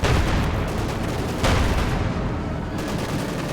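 Mortar fire in a World War II strategy game crewed by Panzer Grenadiers: a dense, loud wash of battlefield gunfire and booms with one sharper report partway through, no voices.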